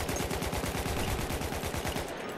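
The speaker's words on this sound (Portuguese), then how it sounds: "Da puta, fugiu do meu tiro, meu Deus!" Rapid automatic gunfire in the video game Battlefield 1, loud and close, with a dense, unbroken stream of shots for the whole stretch.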